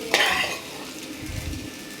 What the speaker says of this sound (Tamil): இப்போ நம்ம நல்லா கிளறி விட்டுக்கலாம்